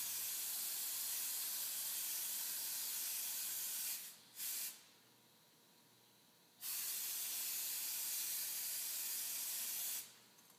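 Clear coat sprayed from a Preval paint spray system onto a car spot repair: steady loud hissing bursts, one brief, one long, broken by quiet gaps, with no talk.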